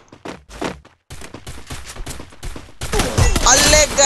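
Rapid bursts of gunfire in a shooter video game, loud and close, building into a dense fusillade toward the end, mixed with excited voices.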